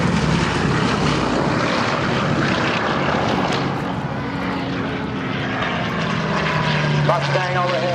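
WWII P-51 Mustang warbird passes overhead at the Randolph AFB airshow, a loud, continuous propeller-engine roar that swells and holds, with announcer talk and crowd noise beneath.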